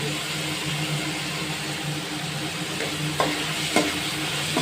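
A mango pickle mixture with asafoetida and salt sautés in a pan, giving a dense continuous sizzle with a couple of scraping knocks from the stirring spoon near the end, close up and no voices.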